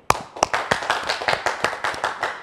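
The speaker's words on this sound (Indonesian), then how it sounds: "tepuk tangan gegap gempita" Clapping at a talk show as a guest is welcomed onstage, heard as a series of sharp, fairly close hand claps in an uneven rhythm, moderately loud with no talk over them.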